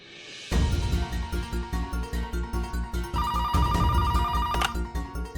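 A telephone rings for a call home, its electronic ringtone starting abruptly and repeating in a steady pulsing pattern, loud and close, with no talk.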